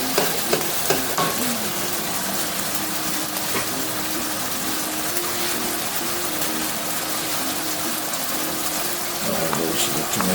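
Beef liver frying steadily in a pan with tomatoes being added, a continuous loud sizzle and crackle with occasional stirring scrapes, running throughout without pause.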